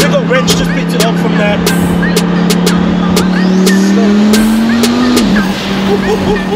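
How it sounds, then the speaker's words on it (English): A twin-turbo Lamborghini Huracan Performante with boost turned up drives hard, its engine droning loud and close with a rising pitch and sharp shift or turbo chatter bursts. "we're in the Performante. Twin turbo, and we've turned the boost up a little, so this is the first drive"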